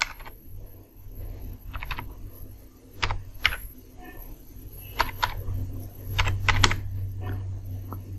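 Computer keyboard keys tapped while a mobile number is entered into an online college admission form, in scattered short bursts of clicks over a steady low hum, with a few slightly louder key presses.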